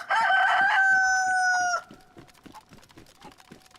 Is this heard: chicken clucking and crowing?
yes